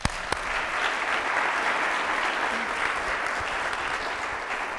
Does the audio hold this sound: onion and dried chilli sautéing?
no